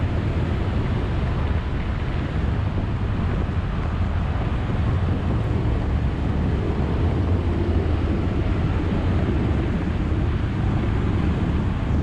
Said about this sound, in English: I'm gonna hold it wide open throttle all the way to the top.